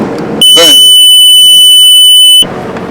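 A 2007 Sea-Doo Islandia boat's starboard engine start gives a single loud, sustained electronic beep lasting about two seconds, with a brief burst of cranking noise at its onset.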